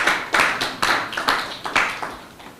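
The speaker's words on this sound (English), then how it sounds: "I think they deserve a clap" A few people clap for a student start-up team at a university pitch challenge, about six separate claps in an uneven rhythm, each a sharp burst that quickly fades in a quiet room.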